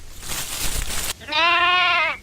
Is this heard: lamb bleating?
yes